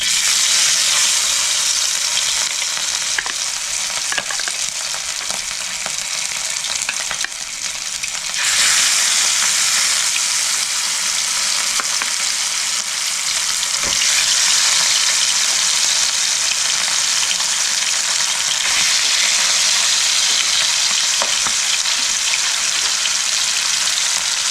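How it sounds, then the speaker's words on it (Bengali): Pieces of rui fish frying in hot mustard oil in a kadai, a loud, dense crackling sizzle that runs steadily throughout, briefly easing then surging again, with no talk. "মাছটা আমি লাল লাল করে ভেজে নেব।"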